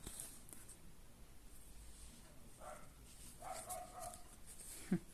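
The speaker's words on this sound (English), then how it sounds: "I apologise, that's my neighbour's dog." A neighbour's dog barks faintly in the distance with a few short, scattered yaps against a quiet indoor background.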